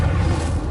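Incendio fire spell blast in Hogwarts Legacy, a single loud, close, rumbling boom that fills the brief moment without any talk.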